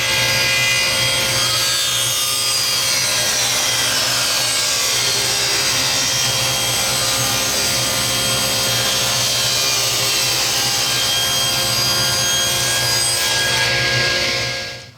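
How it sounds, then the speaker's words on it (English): A table saw rips a 32-inch wood strip 3/16 inch thick for ukulele binding, a loud continuous whine and cutting roar held steady for about fourteen seconds, then winding down. "This is 32 inches long, and we're going to rip it at 3/16 of an inch."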